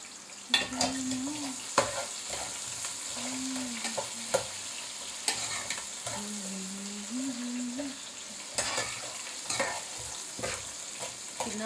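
Chillies crackle and sizzle in hot oil in a pan while being stirred, with sharp scraping clicks at intervals and a voice speaking quietly underneath.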